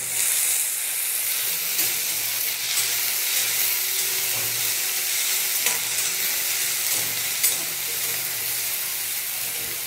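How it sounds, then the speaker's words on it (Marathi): Finely chopped onion and cumin fry in a pan with a continuous loud sizzle and hiss, with occasional stirring scrapes and no talking. "थोडंसं जिरं टाकायचं आणि एक मोठ्या आकाराचा कांदा असा बारीक चिरलेला फ्राय करून घ्यायचा आहे मस्त"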